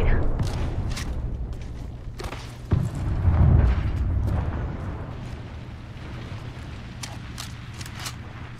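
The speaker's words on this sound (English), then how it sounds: "Eat a thermite grenade." A thermite grenade goes off in a video game with a low, rumbling burst near the middle, followed by a fading roar, with sharp clicks and game sounds scattered around it.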